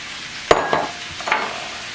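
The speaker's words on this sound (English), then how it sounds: "And we're adding our carrots, pearl onions, and mushrooms." Carrots, pearl onions and mushrooms drop into a pot of cooking beef bourguignon, giving a sharp close clatter and sizzle followed by a softer second splash and brief stirring, with no talk.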